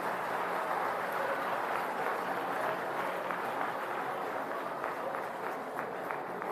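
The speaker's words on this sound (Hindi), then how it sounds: "जोरदार तालियां।" At a school building inauguration, a crowd claps after the ribbon is cut, a continuous outdoor patter of many hands at moderate loudness with a faint murmur of voices underneath.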